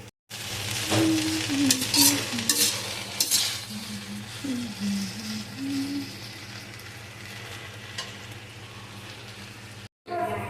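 Okra with onion stir-fries in a pan, a soft continuous sizzle with occasional utensil clinks, while someone talks over it.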